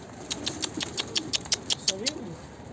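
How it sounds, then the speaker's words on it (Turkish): Two female Nuhudi pigeons in their loft make quick, rhythmic wing flaps and patters at close range, and a brief low cooing follows near the end. "Arkadaşlar iki tane yeni Nuhudi getirdik."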